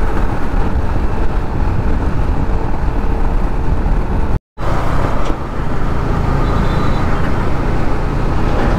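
Heavy road traffic heard from a moving motorcycle, a loud continuous roar of engines and wind with one brief dropout midway.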